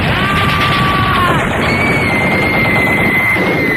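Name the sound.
machine gun fire sound effect in radio comedy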